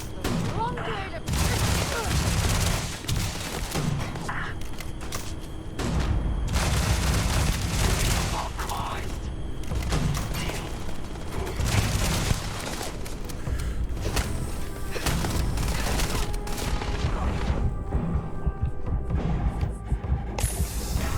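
Gunfire in the sci-fi video game Starfield comes in rapid bursts and volleys with heavy booms, loud and repeated across the stretch, mixed with other game effects.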